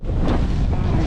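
Strong wind roars and buffets the microphone in a steady, loud rush on an open bog during kiteboarding, for the whole moment.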